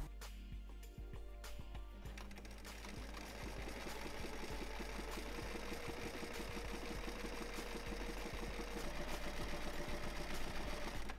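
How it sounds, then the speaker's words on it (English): A sewing machine runs steadily as it stitches swimsuit fabric, giving a fast, even mechanical whirr and rapid needle clatter that continues throughout at moderate volume, with no speech. "And now that I'm still sewing, I'm going to just go ahead and hem it"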